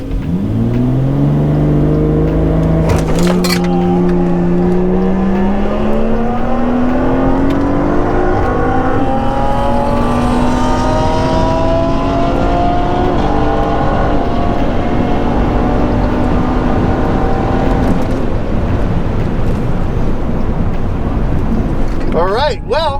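A stock Volvo V60 Polestar accelerates hard in a drag run against a modified Mustang GT, its engine note climbing steadily through a long loud pull with a brief shift partway through, heard from inside the car.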